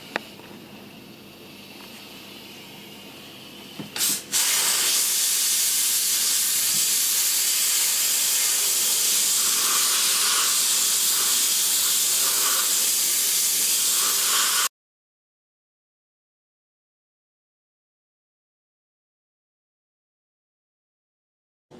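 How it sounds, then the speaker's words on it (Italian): A Cecotec Hydrosteam 1040 steam vacuum cleaner starts up after a brief click, then blasts a loud, steady, close hiss of steam for about ten seconds before it cuts off abruptly into silence. "abbassare vedete inizia ad uscire il vapore"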